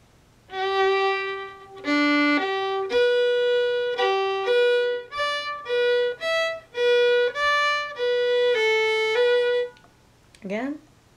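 A solo fiddle plays the opening phrase of the folk tune Sally Gardens, with clear sustained bowed notes moving stepwise in a slow, lyrical line, close and alone, ending with a brief trailing sound.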